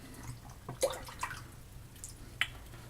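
A razor blade being rinsed in water while shaving with Palmolive stick shave soap: a few faint, scattered drips and small splashes against a quiet background.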